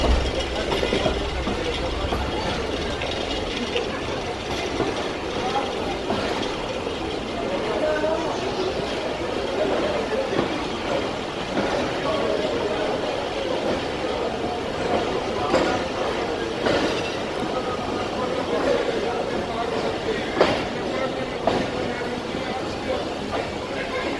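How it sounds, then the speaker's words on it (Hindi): A ZCU locomotive hauling the Jaffar Express passenger train in Pakistan, a steady heavy rumble of engine and rolling wheels on track that fills the whole stretch, with occasional sharper clacks and a voice talking over it. "ZCU बहुत ही ज़बरदस्त तरीके से जाफ़र एक्सप्रेस को पुल कर रहा है"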